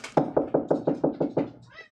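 A pet cat meows repeatedly nearby in a rapid run of about eight short, even calls that fade with a final softer one at the end.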